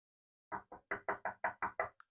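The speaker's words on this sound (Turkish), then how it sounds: "Biraz sonra kırmızı başlıklı kız kapıyı çalmış." Eight firm, evenly spaced knocks on a door sound close and clear against silence, followed by one lighter tap at the end.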